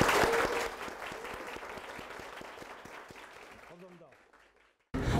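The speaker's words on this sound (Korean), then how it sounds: "박수 치고 끝내자." Applause closing a lecture to students preparing for their exams: the audience claps loudly at first, then the clapping thins and fades into near silence, with a voice heard briefly near the end.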